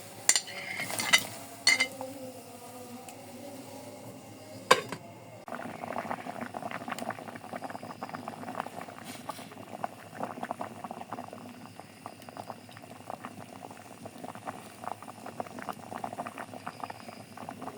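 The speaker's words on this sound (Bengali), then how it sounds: "কড়াইতে গরম পানি দিয়ে ফুটে গেছে। এখন এটার মধ্যে সিদ্ধ করে নেব আলুগুলো" Water boiling in a wok, with potatoes added for cooking: a few clanks and splashes at first, then a steady bubbling simmer that keeps on at moderate level.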